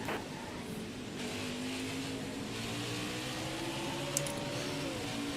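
Race cars in NASCAR Heat 5 at Watkins Glen roar steadily off the start toward turn one, a continuous layered engine drone with rising pitch and a brief sharp tick near the end, no voices.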